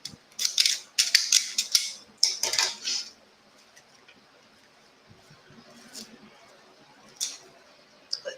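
Small red scissors snip repeatedly while a summer bee wreath is being made, giving a quick cluster of sharp close metallic cuts followed by a few scattered single snips and light handling clicks.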